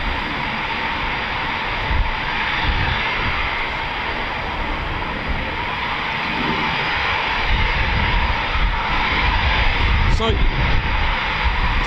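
A Eurofighter Typhoon FGR4 jet taxis at RAF Coningsby with a loud, steady broadband engine roar that holds throughout, while a person talks over it.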